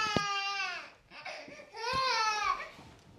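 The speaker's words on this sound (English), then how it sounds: "Sorry about the crying baby," A baby cries in short wailing bursts with brief pauses between them, fairly close, and some fussy whimpering sounds in between.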